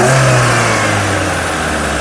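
A 2023 Maruti Suzuki Vitara Brezza ZXI Plus engine revs loud and close, a steady throaty roar with a low hum that eases off slightly toward the end, with no voices.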